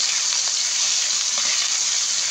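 Sautéed pork sizzles in a pot for batchoy, a loud, dense, unbroken frying hiss close to the pan with faint stirring under it.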